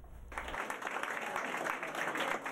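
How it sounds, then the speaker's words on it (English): Applause from a crowd packed into Winchell's restaurant for Mayor Jim Gray on primary night, a dense, continuous wash of clapping heard from some distance and fairly muted. "Loud applause for Mayor Jim Gray at a crowded Winchell's restaurant"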